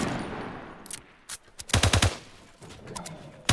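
Video game gunfire during a battle, with a quieter stretch of background game noise followed by loud clusters of rapid shots and a final burst at the end, no talking.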